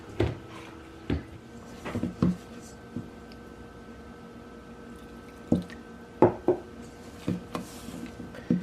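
Hands work water into a soft chicken dumpling dough, giving scattered wet squishes and sticky slaps that come in short bursts with quiet gaps between them, close and fairly loud.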